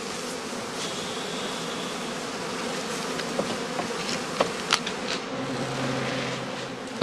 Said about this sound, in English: The square gauze cloths have to be pulled tight round the perimeter of the skep to prevent the bees escaping from the basket in transit.